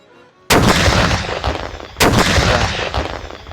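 Two loud, close cannon blasts from artillery pieces in the Men of War: Assault Squad 2 UFO Aftermath mod, each a sharp boom that rolls off into a long rumbling tail, about 1.5 seconds apart.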